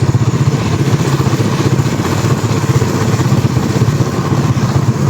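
Close, loud motorcycle engine thrumming steadily while riding, with a rapid pulsing exhaust beat and continuous mid-range drone and no speech.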